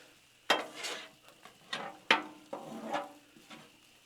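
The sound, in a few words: stirring chicken stir fry on a Blackstone griddle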